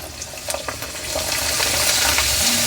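Potato finger chips dropped into hot oil, a rising steady sizzle of frying that builds from a few crackles into a constant hiss, close and fairly loud.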